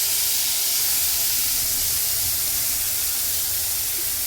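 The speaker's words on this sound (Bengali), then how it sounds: "তেল গরম হয়ে গেছে, এবার মশলাটা জাস্ট দিয়ে দেবো।" Spice paste added to hot oil sizzles in a steady, loud hiss that fills the moment up close, with no talking over it.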